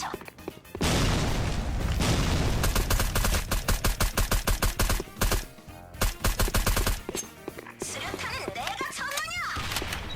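A grenade lobbed in a tent-filled map of a competitive shooter bursts with a loud boom, followed by a rapid string of sharp gunfire bursts and further impacts while a player talks over the action.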